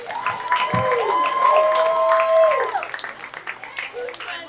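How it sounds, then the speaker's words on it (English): A comedy club crowd in Atlanta claps to welcome a comedian to the stage, with a whooping cheer rising over the applause before it thins and tapers off. "Start clapping right now for the very funny JC Coccoli"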